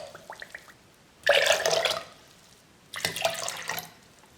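Water pours in two short bursts into a mixer jar holding semolina, a quick splash and gush each time with a pause between, close and fairly quiet.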